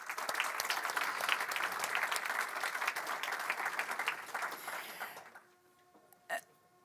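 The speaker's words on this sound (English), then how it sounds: "let's give a big round of applause to the honors team" A crowd at a university honors convocation claps warmly for several seconds, then the applause fades out into near silence, followed by a brief faint sound.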